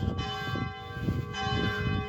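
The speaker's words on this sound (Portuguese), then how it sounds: "A igreja tem o seu horário das antigas de bater o sino" Church bell ringing in an old town, a steady sustained toll with lingering resonant overtones that fills the whole stretch at moderate loudness, with some low rumbling background noise beneath it.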